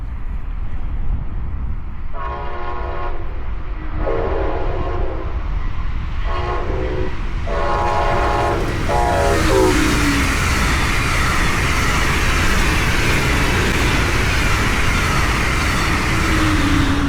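A southbound ten-coach Brightline passenger train sounds a series of loud horn blasts with pauses between them, then its rumbling, whooshing roar passes close by at a Rockledge, Florida grade crossing.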